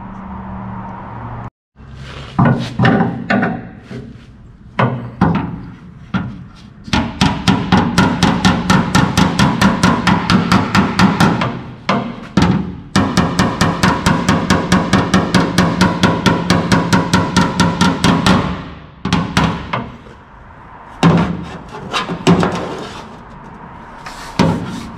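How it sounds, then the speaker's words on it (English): A hammer and dolly knock out a dent in a car's passenger rear fender: loud, rapid metallic strikes in long bursts, with short pauses between runs, close to the listener. "I'm gonna grab my hammer and dolly and I'm gonna work that out."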